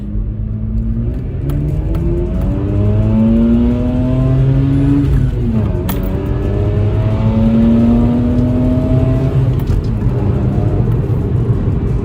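A Mazda RX-8 drives and accelerates with a loud, close engine note that climbs in pitch through repeated upshifts, holding a steady rumble the whole time with no talk.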